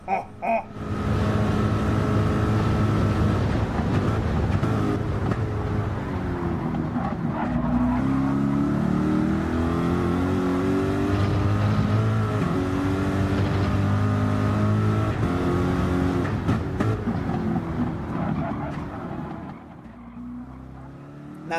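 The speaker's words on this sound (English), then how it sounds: "the sound of the Corvettes and of course the Cadillac DPs" Corvette and Cadillac DP race cars at Daytona in a racing game roar past, engines loud and sustained with downshifts and pitch sweeps, fading near the end.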